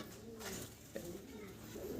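Pigeons coo softly in a repeated low, throaty rhythm at a Bangladeshi pigeon seller's loft, quiet and fairly close, with faint background noise.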